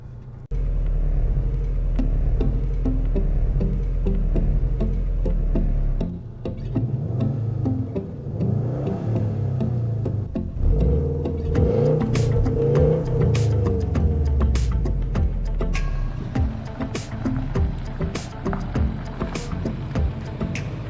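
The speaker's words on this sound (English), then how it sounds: "So we are test driving the Subaru WRX A-Line, Japanese of course, and I'm driving it in automatic" A 2012 Subaru Impreza WRX STi sedan with symmetrical AWD, driven in automatic with paddle shifters on a test drive, produces a steady low engine and road rumble inside the cabin, with scattered small clicks and knocks.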